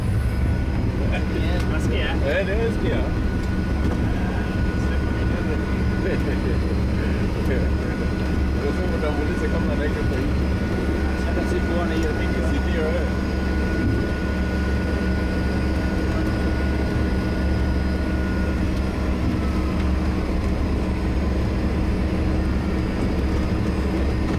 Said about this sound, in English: Now we are taxiing.